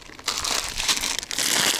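Plastic bags crinkle and crumple close by on a family fishing trip, continuous rustling bursts handled for a couple of seconds with no talking.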